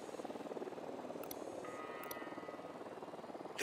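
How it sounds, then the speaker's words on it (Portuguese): In the video game Ghost Recon Wildlands, a drone flies overhead with a steady whirring propeller buzz that holds at a constant level, broken by a few short bright clicks. "O drone tá no céu."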